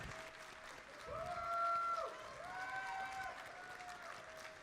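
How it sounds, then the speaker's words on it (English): A crowd applauds during the opening ceremony of a robotics district competition in Dalton. The sustained clapping sounds somewhat distant and swells midway, with a few whistle-like tones rising above it. "I want you guys to keep clapping"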